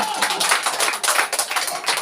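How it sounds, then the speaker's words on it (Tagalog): Audience clapping during a Cebuano-language church service, a steady dense patter of many hands sustained throughout, loud and close, with faint voices mixed in. "Palakpakan nato Ginoo."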